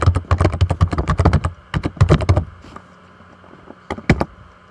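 Close, crisp typing on a computer keyboard: a quick burst of clacking keystrokes, a short pause, another flurry, then a few final taps.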